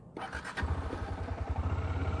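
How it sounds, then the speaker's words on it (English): A Bajaj Dominar 400 motorcycle starts up with a short cranking burst, then settles into a close, loud, pulsing single-cylinder idle with a steady low throb. "So let's fire up the bike."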